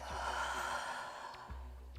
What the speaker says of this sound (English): Take a deep inhale through the nose and exhale through the mouth.